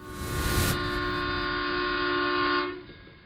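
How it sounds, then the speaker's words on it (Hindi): A train running at full speed as a sound effect: a loud, steady rush of wheels on rails with a sustained horn-like tone, holding for about two and a half seconds before fading out. "ट्रेन पूरी स्पीड में जा रही थी"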